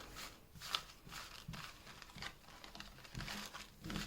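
Tarot cards being shuffled by hand, a soft papery patter and crinkling that comes in short repeated bursts, close and fairly quiet, with no one speaking.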